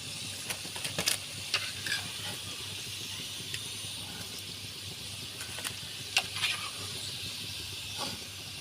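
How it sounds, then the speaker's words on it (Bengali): Sweet pumpkin fritters made with flour and sugar fry in oil at home, giving a soft, steady sizzle and hiss with a few sharper crackles and spatula scrapes, quiet and with no talk. "আমাদের মিষ্টি কুমড়ার বড়া ভাজা হয়ে গেছে,"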